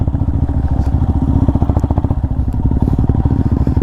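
A motorcycle chugs along off-road in low gear, its engine putting out a steady, close, rapid thumping beat with occasional clatter and scrape from rough ground, no talking over it.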